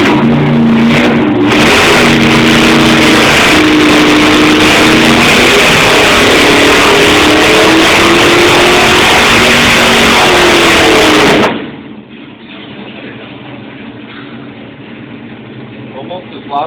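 A 502 engine revs hard under load on a dyno, a loud sustained roar that climbs in pitch for about eleven seconds, then cuts off abruptly, leaving quieter room noise.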